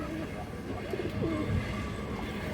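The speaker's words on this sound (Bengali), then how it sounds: "অনেক সুন্দর একটা মাদি কবুতর আছে দেখেন" A female breeder pigeon cooing close by, low warbling coos rising over a dense background hum of other birds and room noise.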